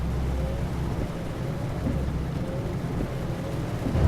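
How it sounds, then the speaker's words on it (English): Rain falls in the Euro Truck Simulator 2 video game, a steady wash of hiss over a low truck engine rumble, even and constant with no talk. "Oh, it's starting to rain."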